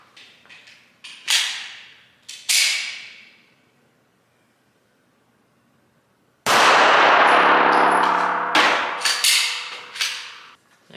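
Sharp metallic clangs ring out as Remington .380 102-grain brass-jacketed hollow-point bullets strike Guard Dog body armor: two crisp hits with ringing decay, a long silence, then a very loud blast followed by several more impacts.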